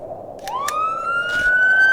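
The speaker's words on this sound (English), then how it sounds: "Yeah, let's go lights and sirens." A police car siren in the video game This Is The Police 2 starts up and rises into a steady wail, with a couple of brief clicks over it, loud and close.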